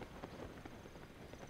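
Horse hooves clip-clop in Zelda: Tears of the Kingdom, a quick run of soft, faint hoofbeats in an even trotting rhythm.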